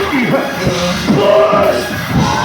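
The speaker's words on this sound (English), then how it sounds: "When I holler push, somebody scream," A church congregation shouts together on a preacher's call, a dense burst of many raised voices yelling in unison that keeps swelling and overlapping for the whole stretch, loud and close.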